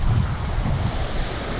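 Sea waves along the Freycinet Peninsula coast in Tasmania, a steady broadband wash and surf rumble mixed with heavy wind buffeting on the microphone, no voices.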